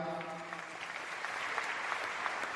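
An audience at a church family gathering applauds a priest after his class, with a steady, dense wash of clapping that holds for a couple of seconds at moderate loudness.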